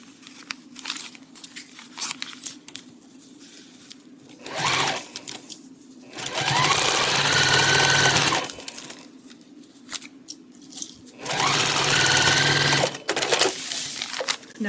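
A sewing machine stitches quilt blocks in two steady runs of rapid mechanical whirring. Quieter handling noises and pauses separate the runs.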